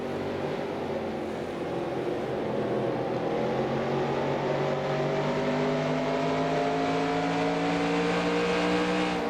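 Race truck engines from the NASCAR Racing 2003 game during a 1995 SuperTruck Series race at Richmond drone steadily at full throttle, a loud continuous whine with several engines' pitches slowly rising and overlapping.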